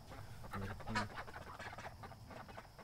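Ducks quack softly at close range while being fed, a couple of brief calls near the start, over a steady low outdoor murmur.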